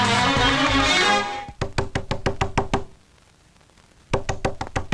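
Knocking on a door in a Tamil film scene, two bursts of rapid, sharp, evenly spaced raps heard close and loud, separated by a short quiet gap, following a swell of music.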